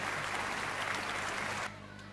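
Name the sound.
audience applause at school anniversary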